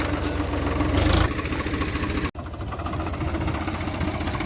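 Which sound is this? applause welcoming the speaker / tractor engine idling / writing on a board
tractor engine idling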